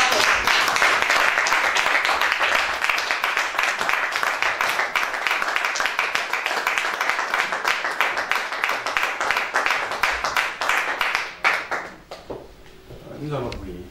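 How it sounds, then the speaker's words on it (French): A church congregation claps and applauds loudly and continuously as a crowd, a dense patter of many hands that thins out toward the end. "Wir applaudieren für die Ehre des Herrn und für den Diener Gottes"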